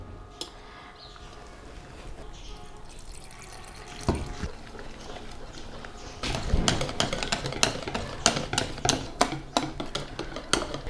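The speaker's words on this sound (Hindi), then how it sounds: "अब हम बेसन में पानी शामिल करेंगे। थोड़ा थोड़ा करके हम इसमें पानी शामिल करेंगे" Water poured little by little into gram flour batter in a bowl for dahi phulki, with clinking and stirring of utensils that grow busier and louder partway through, no talking.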